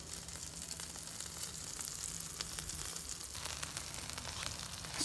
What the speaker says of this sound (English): Look how sizzling that is.